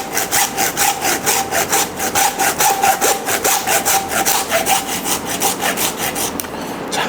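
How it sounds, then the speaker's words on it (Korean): Rhythmic back-and-forth rasping of a hand saw grinding through a pork front leg bone, about a dozen quick strokes, close and loud, slowing near the end. "뼈가 다 써질 때쯤에는 지직지직 하는 소리가 납니다"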